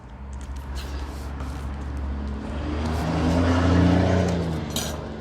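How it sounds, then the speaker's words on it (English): A car goes by on a busy residential road, its engine hum rising to a close, loud pass and then fading away over a steady background of traffic noise. "Cars that go by sometimes are loud."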